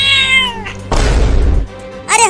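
A cartoon cat meows in a few drawn-out, high-pitched cries, broken by a burst of noisy clatter, close and loud, with no talk.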